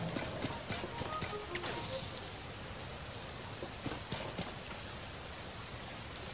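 Rain falls in Zelda: Tears of the Kingdom, a soft, steady patter with scattered sharper drip-like clicks and thuds, some resembling hoofbeats, early on, then settling into an even, quiet wash.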